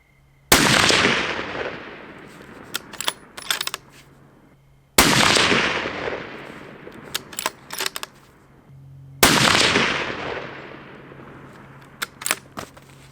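A Browning X-Bolt deer rifle fires three loud, evenly spaced shots from a bench while shooting a group with Sierra GameKing ammunition. Each shot booms and rolls away into a long outdoor echo with scattered clicks between them and no voices.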